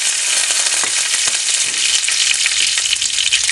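Cinnamon, cardamom and curry leaves frying in hot oil, a loud, close, crackling sizzle with small popping bursts, continuous and without voices.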